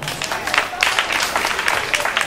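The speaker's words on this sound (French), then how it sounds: "Ça mérite un applaudissement quand même." A church congregation applauds during a French-language address, with a short burst of uneven clapping and a murmur of voices underneath.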